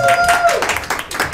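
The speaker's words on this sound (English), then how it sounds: "Round of applause." An audience claps at an AfroCannes event honouring a Sudanese filmmaker, a short burst of scattered applause close by, with a sustained tone fading at the start and a voice mixed in.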